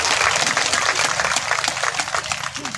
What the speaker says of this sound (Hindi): ऐसे बेटा बहू के लिए एक बार जोर से तालियां स्वागत करें।